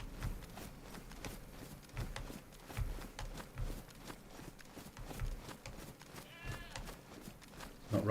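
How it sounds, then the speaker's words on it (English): A goat bleats in the DayZ video game on the Livonia map, with faint livestock cries and soft hoof-like clops scattered over a muted outdoor background. "Oh, it's a goat."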